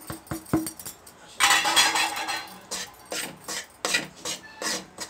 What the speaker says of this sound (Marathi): त्याच्यात मी हे बिस्किटचा चुरा आहे तो परतून घेते